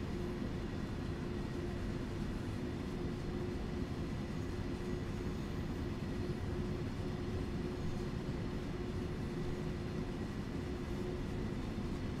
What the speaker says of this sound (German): Da kommt es nochmal ein ICE entgegen.